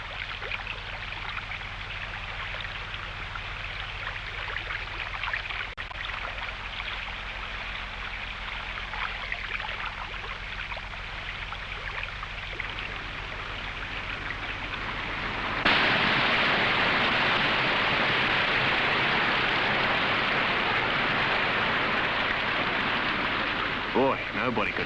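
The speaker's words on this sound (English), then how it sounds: "The river seems to be concentrating into one channel," A wild river funnels into a single channel ahead of a waterfall, giving a constant broadband roar of rushing water. Midway the roar jumps louder and brighter and then holds steady to the end.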